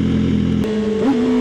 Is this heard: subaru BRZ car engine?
yes